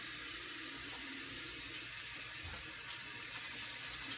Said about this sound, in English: I do have to wash my hands real quick